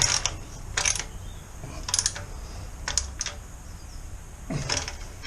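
A ratchet wrench clicks in short bursts while tightening a wheel bolt on a BMW R1250RT motorcycle during a tire replacement, sharp close ratcheting spaced by pauses.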